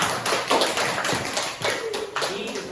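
Students clap after a classroom presentation about handwashing, a scattered run of hand claps and taps close by, with voices talking over them throughout.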